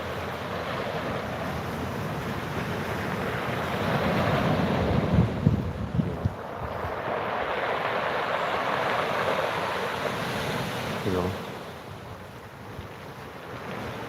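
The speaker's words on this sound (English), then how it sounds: "We just watching the water crash up on the shore." Ocean waves wash up onto a beach shore on a fresh morning, a steady broad rushing surge that swells louder midway and then recedes, with wind buffeting the microphone throughout and no voices.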